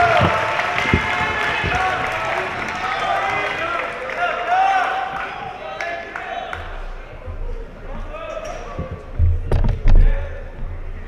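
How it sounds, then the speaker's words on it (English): An audience at the Army and Navy Academy 2022 school talent show cheers and claps after a musical performance. The noise is a dense, loud burst at first and then thins into scattered claps and voices. "Give them a round of applause."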